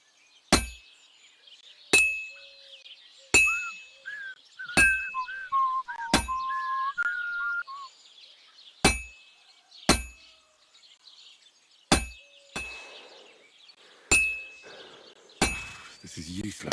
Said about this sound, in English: have to hammer it more evenly.